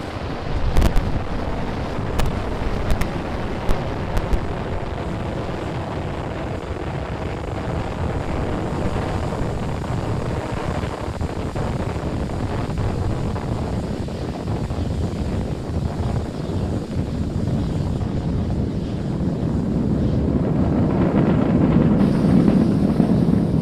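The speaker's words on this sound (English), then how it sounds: "Falcon 9 has successfully lifted off from our pad 39A at the Kennedy Space Center, carrying a stack of Starlink satellites into orbit" A SpaceX Falcon 9 rocket lifts off from pad 39A at Kennedy Space Center carrying Starlink satellites. It makes a continuous broad, roaring rumble with a few sharp crackles early on, and the roar builds heavier toward the end.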